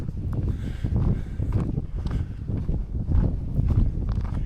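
Strong wind on an exposed stretch of the South Downs Way between Buriton and Steyning buffets the microphone, a continuous low rumbling roar with gusty swells and a few faint crunching footsteps under it.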